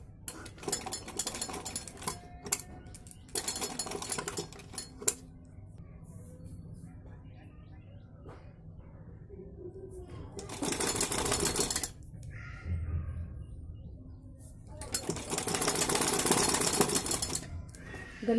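Sewing machine stitching around the back neckline of a garment, where lace will be added. It sounds in several loud bursts of steady mechanical whirring and clatter, with quieter gaps between the runs of stitching.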